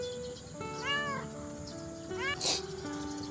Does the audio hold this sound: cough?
no